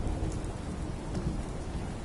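Steady, moderately quiet rain patters down without pause in Fallout 4, with a low thunder rumble rolling underneath.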